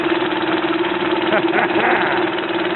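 A British Seagull Vancouver outboard motor runs in gear with a steady, loud mid-pitched chugging drone and continuous vibration, while someone talks over it.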